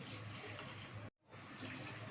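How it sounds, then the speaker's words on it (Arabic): Hot water poured from above onto chopped onions and tomatoes seasoned with cumin and salt in a pan, a steady close splashing pour that breaks off briefly midway and then resumes. "وننزل بميه سخنه عليهم"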